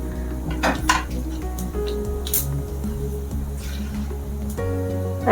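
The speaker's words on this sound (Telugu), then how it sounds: "ఆయిల్ హీట్ ఎక్కింది, వేడైంది, ఇవి వేసేసుకుందాం" Mustard seeds, cumin, chana dal and urad dal tipped into hot oil in a pan, with metal clinks of utensil against pan over a steady sizzle, close up.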